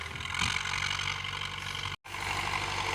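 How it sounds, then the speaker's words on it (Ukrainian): A tractor ploughing a field at night and turning toward the listener, a steady, close engine drone with a brief dropout near the end, with no voices. "І зараз трактор повертається на мене і буде по колу йти оранка."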